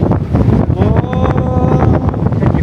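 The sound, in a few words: strong wind on West Cliff, Ramsgate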